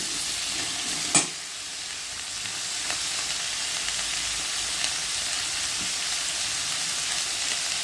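Cauliflower masala fries in a little oil with a steady, close sizzling hiss, broken by a sharp clink of a stirring utensil early on.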